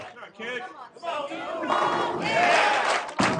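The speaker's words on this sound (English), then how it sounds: "Applause here. The cheers from the crowd." A crowd at a professional bowling tournament erupts in loud cheering and shouting, a dense sustained roar of voices close by that swells and holds to the end.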